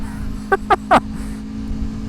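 Three quick, sharp engine revs from an Aprilia Tuono V4 motorcycle rise in succession, each louder and longer than the last, over a steady low drone.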